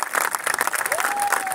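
Steady applause from a street circus crowd in Mar del Plata, dense clapping throughout, with a faint rising whistle-like tone near the end.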